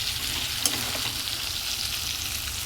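Chicken browning in a pan for a Bengali home-cooked lunch, a steady broad sizzle with soft stirring scrapes and one brief clink, close and continuous with no voices.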